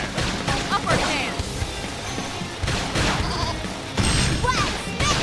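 A sheep-like creature in the game Xenoblade Chronicles X bleats several times amid combat sounds of hits and crashes.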